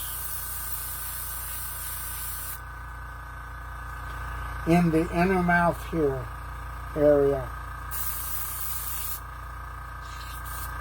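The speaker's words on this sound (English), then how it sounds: "I'm going to spray this" Two long bursts of hissing black spray paint onto a resin model kit, one before and one after a short stretch of someone talking.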